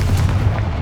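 Confringo fire spell blast from Hogwarts Legacy on PC: a dense, loud low rumble of flame and impact filling the whole short moment, with no voice over it.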